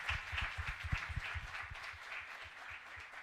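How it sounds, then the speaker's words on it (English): Audience applause at a National StartUp Day celebration, moderate scattered clapping from a crowd that builds briefly then thins and fades. "Big round of applause."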